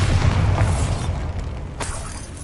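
Bombarda spell explosion in Hogwarts Legacy, set in an abandoned cave-prone area: a heavy close boom with a deep rumbling tail that fades over a couple of seconds, alone without talk.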